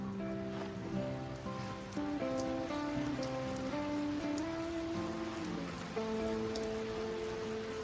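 Steady rain falls in a video game, a continuous soft hiss under layered melodic game music that runs throughout.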